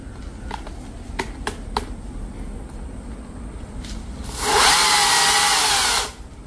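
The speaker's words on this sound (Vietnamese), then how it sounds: "Mình cưa vô cát là y chang là cưa vô đá vậy đó." Chainsaw cutting into a sandy King coconut palm trunk: a loud, broadband burst of the saw biting into wood for about a second and a half near the end, preceded by scattered clicks and a low background rumble.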